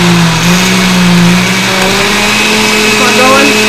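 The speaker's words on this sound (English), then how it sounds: "I'm going to put my blender up here where you can see it. Okay, cover your ears. It's going to make a raucous noise" A countertop blender whirs steadily as it purées cucumbers and liquid into cold soup, a loud continuous motor drone that rises slightly in speed partway through, close and dominant throughout.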